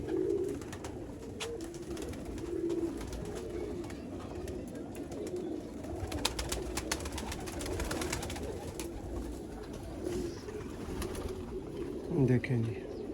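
Rare teddy pigeons coo softly in a loft, low repeated throaty calls rising now and then over a steady background of rustling and faint movement, with occasional nearby clatter.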